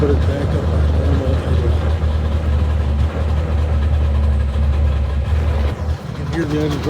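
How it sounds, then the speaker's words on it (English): A 1962 Johnson 75 hp outboard engine idles with a loud, steady low rumble, its idle sagging slightly near the end. "You can hear the engine drop a little bit."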